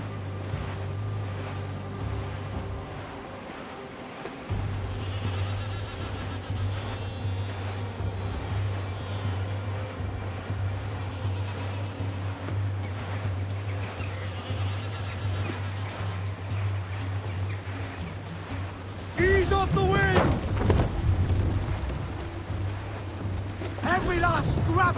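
Sailing ship at sea in Assassin's Creed, with a steady roar of wind and waves and a low drone throughout, growing louder and busier near the end with creaking and splashing bursts.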